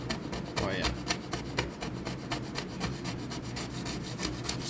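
A scraper working burnt residue off a kitchen cook top gives rapid, rough rasping strokes in a steady back-and-forth rhythm, close by, with faint voices in the background.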